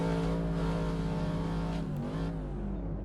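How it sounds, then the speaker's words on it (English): A race car engine in a racing video game at the Red Bull Ring revs hard and loud, a steady high whine that eases slightly toward the end, with no voices. "Might be my car revving."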